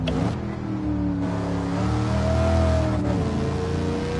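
A 1978 Pontiac Firebird Trans Am in Gran Turismo 7 on the Nordschleife, its V8 engine droning and revving steadily up and down through the gears, loud and close with no talking.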